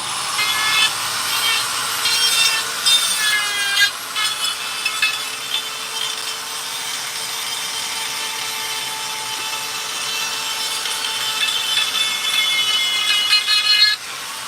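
A Makita chainsaw carves a black walnut heron sculpture, its engine whine loud and continuous, close by and steady throughout with slight shifts as the cut bites.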